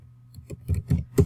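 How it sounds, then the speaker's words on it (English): Keys tapped on a computer keyboard while entering figures into a spreadsheet data sheet: a few irregular close clicks and clacks, growing slightly louder, with no talking over them. "we're going to start typing in all of our data"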